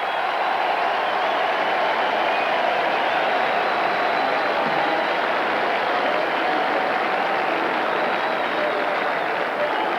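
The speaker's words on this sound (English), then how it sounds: "And a hand for the Stanford defense from the crowd." Stadium crowd at a 1991 Stanford versus California college football game applauding the Stanford defense, a broad, continuous wash of clapping and crowd noise heard from a distance, steady throughout.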